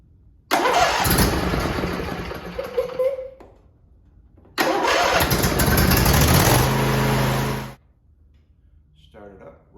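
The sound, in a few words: Husqvarna/Ariens lawn tractor engine starting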